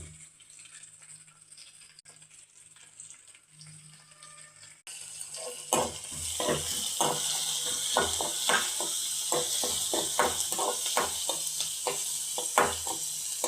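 After a quiet start, onion, green chilli and curry leaves hit a hot pan of tempered mustard seeds and cumin, then sauté with a bright, continuous sizzle and repeated stirring clicks, with no voices.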